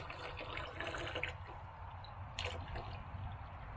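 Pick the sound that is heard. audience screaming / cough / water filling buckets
water filling buckets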